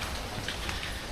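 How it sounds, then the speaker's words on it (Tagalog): Steady rain pours down in a rural Philippine setting, a dense, even hiss of drops on surfaces with no break, continuous and fairly close, with no voices. "Kanina pa yan ayaw tumigil ng ulan"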